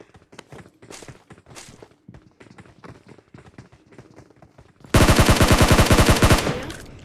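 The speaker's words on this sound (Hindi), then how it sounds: "यहाँ मुझे उतरते ही एक स्कारल मिल जाती है, इसलिए मैं उठाते ही गन रश कर देता हूँ।" SCAR-L assault rifle fire in a battle royale shooter: a loud, rapid burst of close automatic shots lasting about a second and a half, following several seconds of quieter scattered game sounds and footsteps.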